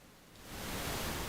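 Harsh, unfiltered synthetic jet engine noise, a bright broadband hiss that rises within half a second and then holds steady and loud.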